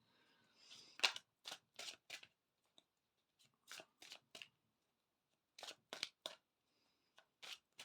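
A deck of tarot cards is shuffled in short, crisp riffling bursts, a few quick sets separated by silent pauses, close and fairly quiet.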